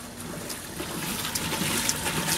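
A water wheel at the Aloha Resort on Lamai Beach, Koh Samui, Thailand, turns with a steady rushing, splashing wash of water that stays fairly loud and even throughout.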